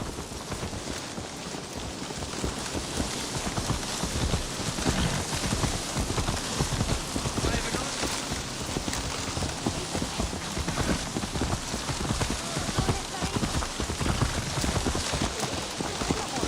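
Horse hooves clip-clop steadily in Assassin's Creed Valhalla, a continuous rapid rhythm of hoofbeats on the ground blended with a dense wash of ambient game noise, moderately loud and without speech.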